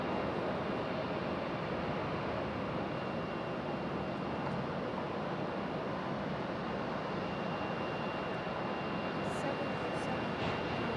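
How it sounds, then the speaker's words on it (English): A Boeing 767 arrives at Raleigh-Durham airport, its engines giving a steady, fairly faint wash of broadband roar with a thin high tone, with some talking nearby. "Wonderful sounding arrival. Love the sound of the 767s."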